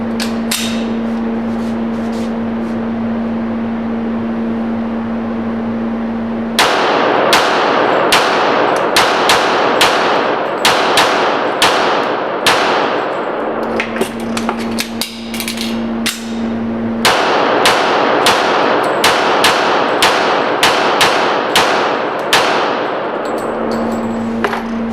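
Rapid gunfire from a gun loaded with Winchester white box 180 grain ammunition, sharp loud shots in quick bursts separated by short pauses, with a steady hum behind the gaps.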